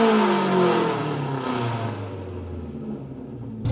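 A car engine at a mechanic's shop in Uruguay revs up loudly, then the pitch sinks as the revs fall back toward a steady lower drone that fades near the end.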